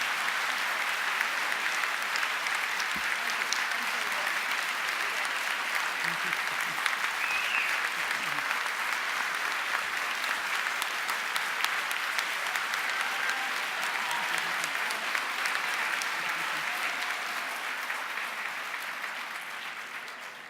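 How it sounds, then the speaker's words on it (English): Standing ovation for Chris Matthews at the Miami Book Fair, a long, even wash of clapping from a large audience, sustained for about twenty seconds before gradually fading. "Well-deserved standing ovation for Chris Matthews"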